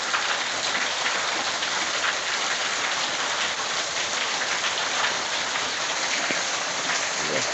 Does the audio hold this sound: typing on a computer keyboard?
no